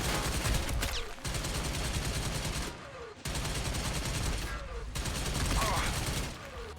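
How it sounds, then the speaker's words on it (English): A minigun firing in the video game Army of Two, a loud sustained roar of rapid shots broken by short gaps, with game sound and brief effects mixed in. "you get to see your teammate firing a minigun while they're being dragged to safety"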